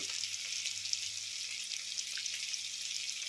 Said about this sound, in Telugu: పచ్చిమిర్చి వేసుకున్నాం పుదీనా కూడా వేసుకున్నాం అదైతే వేగుతుంది